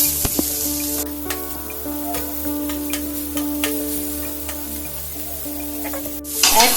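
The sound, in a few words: prawns sizzling as they are flipped on the tawa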